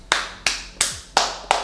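Five sharp hand claps in a slow, even rhythm, close and clear, each with a short room echo, no talking.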